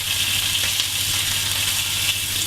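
Steak searing in a frying pan, a steady, close, dense sizzle with a low hum underneath and no pauses or voices.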